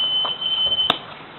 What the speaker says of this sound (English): Now that alarm will use, here's the buzzer